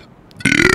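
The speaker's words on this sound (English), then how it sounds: "I swear I haven't been burping until I took one sip of that Sprite" A loud, close burp after a sip of Sprite, starting abruptly and rumbling on with a sustained throaty tone, preceded by faint background sound from a Dark Souls game session.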